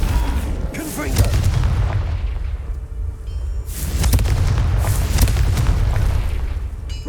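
Fire spell explosions in the game Hogwarts Legacy, loud booming blasts with rumbling low-end that fill the whole stretch, easing briefly in the middle before a second heavy burst of crackling detonation.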